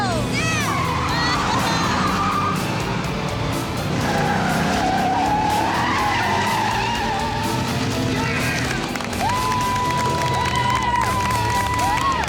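A race car driving fast on a track with skidding tires: a loud, constant engine roar under screeching tire squeals, with faint crowd noise behind.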